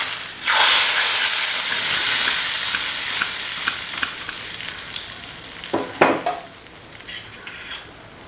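Hot tempering oil for horse gram rasam hits the pot with a sudden loud, hissing sizzle that slowly fades, followed by a few sharp clatters and scrapes of a spoon.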